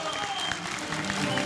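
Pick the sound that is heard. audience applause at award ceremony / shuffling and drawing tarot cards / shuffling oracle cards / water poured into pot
audience applause at award ceremony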